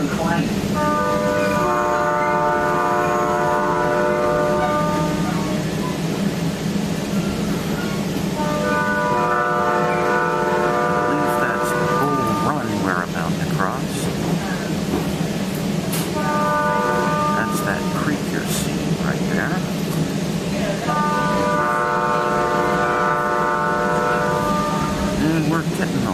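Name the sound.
VRE commuter train horn from the cab car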